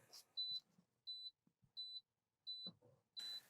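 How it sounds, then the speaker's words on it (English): An audible warning alarm in a Class B truck during a pre-trip inspection beeps five times in a steady, evenly spaced rhythm, each tone short and piercing, with faint speech and small noises between the beeps. "We hear our audible alarm come on"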